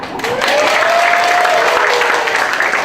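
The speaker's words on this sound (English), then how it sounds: "A big round of applause again for Dr. Kelly." Audience applause closing a pre-conference education workshop, steady and fairly loud throughout, with a faint sustained tone running beneath the clapping.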